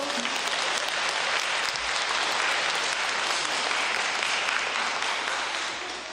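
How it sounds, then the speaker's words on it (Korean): Steady, dense applause from a church congregation during a Korean Catholic retreat sermon, filling the parish hall at full strength and tapering slightly at the end. "박수도 쳐야죠"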